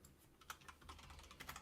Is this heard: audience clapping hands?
no